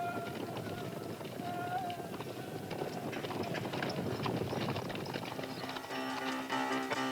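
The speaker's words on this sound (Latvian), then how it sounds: "Krist no auļojoša zirga." A horse gallops hard during a film stunt, hooves pounding in a quick, steady rhythm that runs continuously at moderate loudness with some wind noise mixed in.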